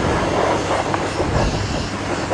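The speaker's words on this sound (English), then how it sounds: "When I wash the bike, I try not to jet wash the electrics." Pressure jet washer spraying a KTM 701 Supermoto motorbike, a steady, loud, broadband hiss of water running continuously without pause.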